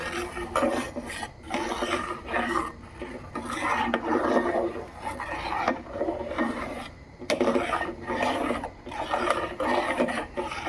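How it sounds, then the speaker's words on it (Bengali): Payesh, a rice pudding of rice, milk and cardamom, is stirred in a pot, giving a steady scraping and rubbing of the spoon against the pot bottom in repeated close strokes. "এবার একটু নেড়ে ছেড়ে নেব"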